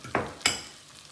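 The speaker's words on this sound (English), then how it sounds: "I've got one avocado that I just cut up into some little bite-sized pieces, and I've got a fork. I'm going to mush it all together." A fork mashes cubed avocado for guacamole, giving two soft squelching, scraping strokes against a bowl, close and fairly quiet.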